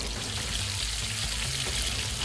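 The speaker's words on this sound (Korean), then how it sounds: "튀긴다. 튀기기 시작했어요." Rice paper rolls frying in hot oil during a cooking competition, giving a steady, dense hiss and crackle that runs unbroken and fairly close.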